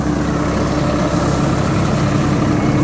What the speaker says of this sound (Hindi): इस स्पीड पे ट्रैक्टर चलता है ये देखिए आप ट्रैक्टर की चाल देखिए